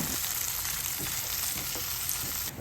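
Small sardines frying in hot oil in a pan, a steady close sizzle and crackle throughout with faint stirring, no voices.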